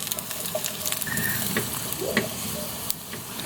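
Ginger and garlic sizzle in a hot pan, a steady close frying crackle with scattered scraping stirs and small pops, no talking.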